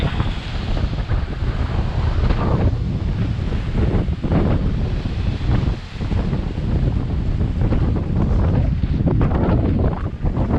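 Heavy typhoon winds roar across the seaside road at Hac Sá, Macau, while waves crash and splash against the shore, a loud, continuous rush with surging bursts of spray and constant wind buffeting the microphone.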